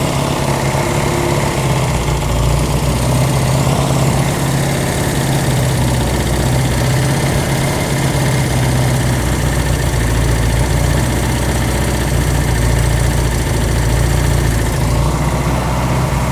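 A Honda CB200 motorcycle engine with aftermarket carburetors runs steadily at idle close by, giving a continuous loud, slightly uneven mechanical drone with no talk over it.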